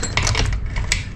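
An old motorcycle chain being handled and fed back onto sprockets gives off a brief flurry of metallic clinks and rattles, close and loud over a low hum.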